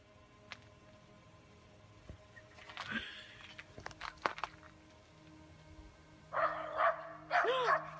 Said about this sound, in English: The dog sprints to the edge of the yard and erupts into a full barking frenzy aimed directly at the tree line.